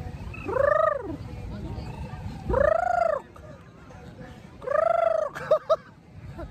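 Three loud, drawn-out chicken squawks ring out close by at a beach in Dubai, followed by a couple of short, sharp clucks.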